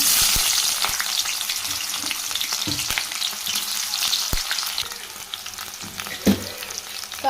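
Sliced onions fry in hot oil in a pan, sizzling loudly and steadily up close, with occasional crackles and a few sharp clicks from stirring, without any speech.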